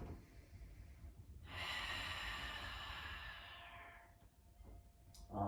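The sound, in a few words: deep belly breathing during yoga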